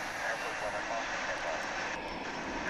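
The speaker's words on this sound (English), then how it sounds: "Got another incoming flight." A fixed-wing airliner arriving at DFW International Airport roars steadily with a broad, loud engine rumble that holds throughout the short stretch.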